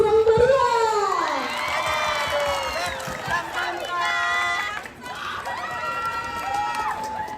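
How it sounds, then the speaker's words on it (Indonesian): Applause and loud cheering from an audience at the opening of a school basketball tournament in Tana Toraja, with shrill whoops and shouts rising and falling in waves. "Mari kita berikan aplaus yang meriah."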